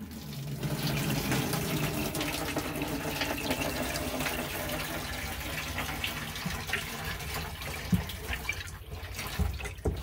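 Water pouring out of a tank barn tank through an opened valve, a steady broadband gush that runs loud and continuous from start to end with faint gurgles and no voices.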